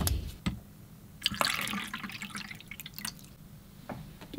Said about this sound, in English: Then let me add some water here.